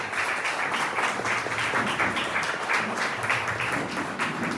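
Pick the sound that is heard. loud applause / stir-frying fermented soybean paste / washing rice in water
loud applause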